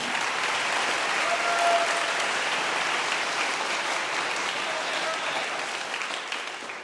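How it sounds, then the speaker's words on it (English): A high school honor band concert audience applauds with dense, sustained clapping that holds steady and then begins to taper off slightly toward the end. "How about another round of applause, students?"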